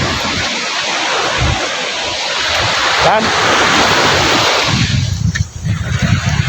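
Strong sea waves surge and crash onto a beach of shifting stones and sand, a loud, continuous roar of surf mixed with wind buffeting the microphone, with a brief voice over the noise.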